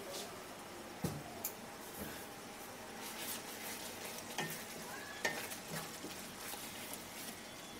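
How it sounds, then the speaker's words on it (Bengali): Egg malai masala gravy bubbling and spattering in a pan on the stove, a steady close simmer with scattered soft pops and light clinks, no voices. "এটা বেশ ফুটে উঠেছে।"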